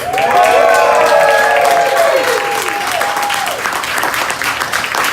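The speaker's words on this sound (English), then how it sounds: "please make some freaking noise for Mr. James Howley." A coffee shop crowd bursts into loud applause and cheering with whoops, sustained and full, gradually easing slightly toward the end.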